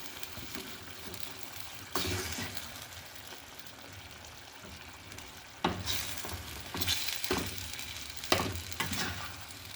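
BBQ fried chicken sauce simmering in a pan on low heat, with a soft steady bubbling sizzle close by and a few louder stirring and pouring moments.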